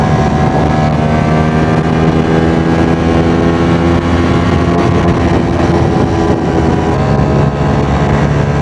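A Ducati Streetfighter V4 motorcycle ridden in sport mode on a crowded highway, its engine droning steadily and loud throughout with strong wind rush over the microphone and no talking.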